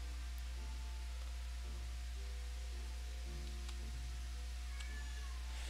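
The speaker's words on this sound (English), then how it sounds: "What is wrong with that cat?" A house cat meowing at the back door, a few short plaintive meows rising over a constant hiss and low hum, moderately close and alone without talk.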